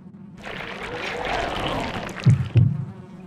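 Bee-like floating heads in the video game Shin Yomawari give off a fuzzy, insect-like buzz that swells and fades over a few seconds, then two short low thumps follow.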